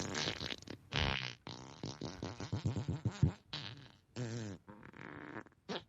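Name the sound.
Alexa smart speaker playing a fart sound effect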